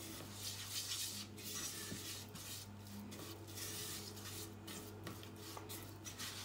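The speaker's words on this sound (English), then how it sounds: "So now we're going to mix the butter and the flour together," Butter and flour stirred together into a paste in a pan for a béchamel sauce, giving a soft continuous scraping and stirring with faint utensil clinks over a steady low hum, no talking.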